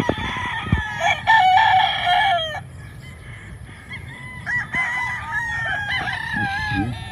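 Gamefowl roosters on a big breeding farm: several long crows overlapping, some near and some farther off, mixed with scattered clucks and short calls over a low outdoor background.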